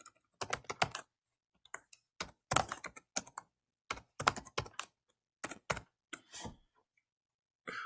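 Quick, crisp keystrokes on a computer keyboard come in irregular clusters with brief gaps, near and fairly quiet, as a simple HTML page is typed.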